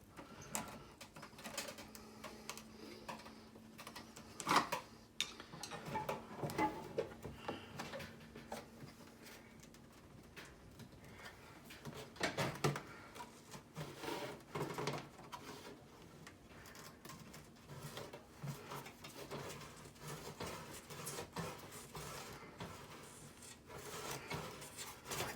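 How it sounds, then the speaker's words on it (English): A flathead screwdriver pries and scrapes at the housing of a 2015 Ram truck headlight, giving quiet rubbing and creaking with occasional sharp snaps and clicks as the plastic works loose, under a faint steady hum. "I seem to be getting the job done with just a flathead screwdriver pretty well."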